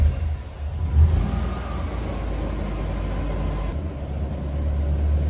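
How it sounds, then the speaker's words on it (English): A car fitted with a Toyota 1UZ V8 engine idling steadily on its own after a difficult start, a close, continuous low engine hum with a brief swell near the start and a small drop in tone toward the end. "the car is running on its own now."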